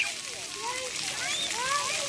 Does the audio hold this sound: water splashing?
yes